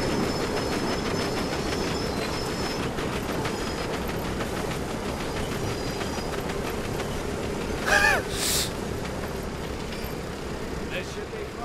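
A moving train inside the World War II shooter Medal of Honor: Above and Beyond: a steady rumble and clatter of railcars with a brief wheel squeal, while voices talk faintly over it.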